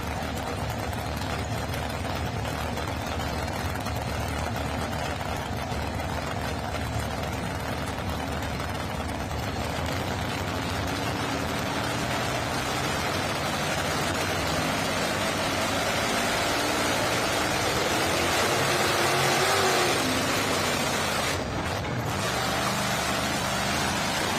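A two-wheel-drive pulling vehicle at a pulling event roars on the throttle in a long, loud, continuous engine drone, with the pitch rising and shifting toward the end.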